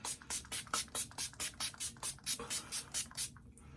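A rapid series of about fourteen short pump-spray bursts of makeup setting spray onto a face, evenly spaced and close, each a soft misty hiss, then silence.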